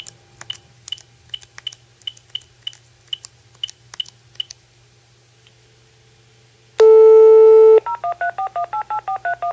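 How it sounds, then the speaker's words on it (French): Telephone dialing a wired/GSM irrigation control server: a run of short, evenly spaced DTMF key tones, then a steady beep and a series of quick alternating pulsed tones, clear and close with no voices. "J'appelle le serveur sur lequel l'applicatif est installé."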